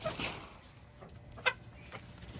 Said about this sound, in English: So Red the Guinea Hen likes to chase everyone away from wherever she finds interesting.